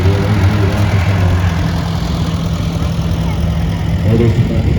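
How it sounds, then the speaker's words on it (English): A 1950 Farmall Cub tractor of about 8 horsepower runs at a tractor parade in Greensburg, Indiana, its engine a steady, close, low droning hum under faint background talk. "that is a Farmall Cub"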